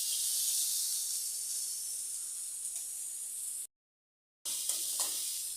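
Spices frying briefly in a pan, a steady bright hissing sizzle that holds constant, cuts out for a moment, then resumes with faint stirring.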